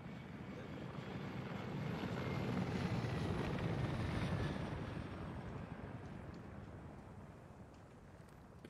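Helicopter in the ArmA video game, a steady whirring rotor drone that grows louder as it approaches and then gradually fades away, heard on its own.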